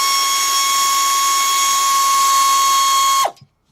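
Power ratchet working a brake caliper bolt on a 2007 Honda Accord during a front rotor job gives a loud, steady high-pitched whine that holds for about three seconds, then stops abruptly.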